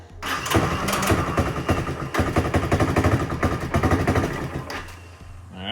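A 1984 Honda ATC 200M three-wheeler engine cranks and catches, then runs with a loud, uneven, rapid chugging that lasts several seconds, close by with no talk over it.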